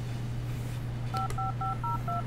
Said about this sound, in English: she has to put the phone in her pocket and take it back out to dial a new number